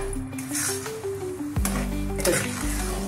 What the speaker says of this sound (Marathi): आपण या पाकामध्ये रवा घालूया आणि एकसारखं हलवायचं